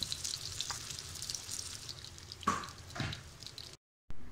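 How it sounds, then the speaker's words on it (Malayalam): Marinated chicken fries in oil in a pan, a soft steady sizzle with a couple of louder splashy bursts near the end, followed by a sudden cut to silence, fairly quiet with no speech. "ഇതിലേക്ക് മാരിനേറ്റ് ചെയ്ത് വെച്ച ചിക്കൻ ഇട്ട് പൊരിച്ചെടുക്കാം."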